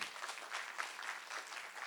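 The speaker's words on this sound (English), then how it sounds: "please give a round of applause to Tiffani" An audience at a live UX Salon 2022 talk applauding, a short burst of steady clapping from a room full of people, moderately loud and continuous.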